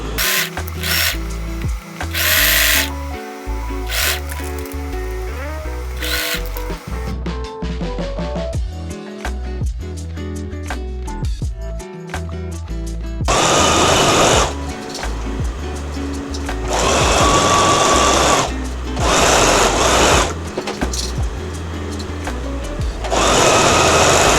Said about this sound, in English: I'm going to stitch around the entire thing to join them together